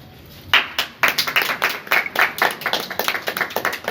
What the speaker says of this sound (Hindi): जोरदार तालियां एक बार फिर आप सभी की बजती रहनी चाहिए